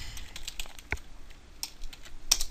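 Computer keyboard keys click sporadically while entering a command in Houdini 3D software, a handful of light, close taps separated by short pauses.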